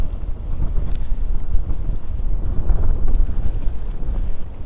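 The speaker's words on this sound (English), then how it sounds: "So hopefully the microphone's doing a good job in blocking the wind noise out." Strong wind on a coastal headland batters the microphone, producing a loud, continuous low roar and rumble with gusty buffeting that never lets up.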